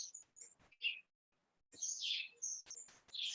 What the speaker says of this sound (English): there's so many birds in the garden this morning.